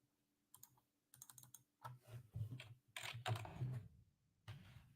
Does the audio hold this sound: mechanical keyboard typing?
yes